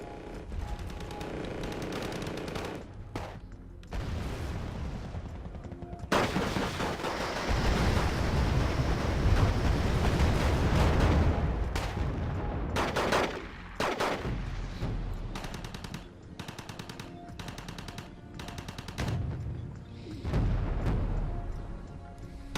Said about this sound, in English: They are in the open, so they are pretty susceptible to artillery fire, which is landing awfully close to him.